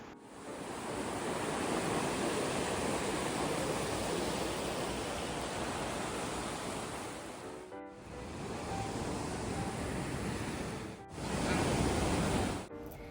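The lower falls on Johnston Creek in Banff roar continuously up close, a broad, loud rush of falling water that swells and dips slightly, with brief breaks where the sound cuts out.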